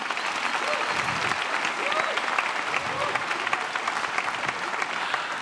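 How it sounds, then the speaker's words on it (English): Audience applause fills a hall right after a brass band performance at an Advent reflection concert, a steady, even wash of many hands clapping that holds at the same level throughout. "Give him a big round of applause,"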